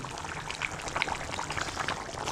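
A steady, gentle pour of liquid, a soft continuous splashing trickle at close range with no talking.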